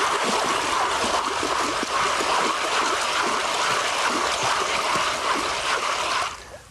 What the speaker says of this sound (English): Get the water in the material, and the material will wash through into the pan.